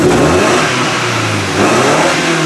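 A 1999 Toyota Camry demolition derby car's engine revs loudly and steadily up close, with a gritty, rough tone and a slight surge near the end, and no talking.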